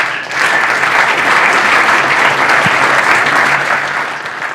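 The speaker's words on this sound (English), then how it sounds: "give Josh and Bruce a round of applause" Sustained applause from a conference audience greeting two speakers coming up on stage at a print industry event, steady and full throughout, easing slightly at the end.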